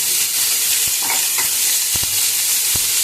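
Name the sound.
chopped chilli, coriander, carrot and capsicum being stirred in pan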